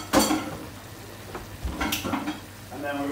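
Red wine and beef are tipped into a hot pan with chipotle for beef chilli, setting off a sharp burst of sizzling and stirring followed by quieter bubbling and a few scrapes of a utensil against the pan.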